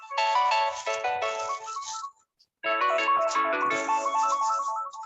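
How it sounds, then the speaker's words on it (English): A mobile phone plays a melodic electronic ringtone loud and close, two bursts of bright repeating tones split by a short silence, with no talking. "someone's mobile is ringing."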